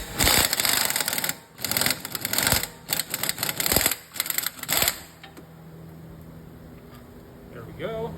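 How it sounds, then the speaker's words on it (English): Tool noise while a 15 mm bolt is removed from the rear shock of a 2019 Ford Escape, with several loud bursts of rapid clattering over the first five seconds, then a quieter stretch. "I'm taking out this 15 millimeter nut or bolt right here"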